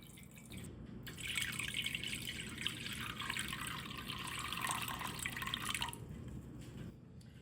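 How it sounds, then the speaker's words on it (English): Water pours steadily into a pot for several seconds, a bright splashing hiss that starts abruptly and stops, in an otherwise quiet room. "So now we're going to add our water to our pot."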